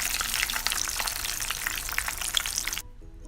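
Chicken pieces deep-frying in hot oil for a crispy KFC-style fry, a loud steady crackling sizzle that runs continuously and then cuts off abruptly near the end.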